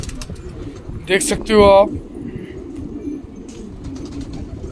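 A pigeon's cooing call rises briefly over a low outdoor hum at a pigeon show in India, with someone talking nearby before and after it.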